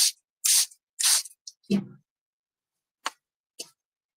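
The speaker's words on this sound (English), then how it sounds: "we're going to give that a spray" A handheld spray bottle mists water onto a coffee filter in three quick, close hissing bursts, followed by a few faint soft taps and rustles.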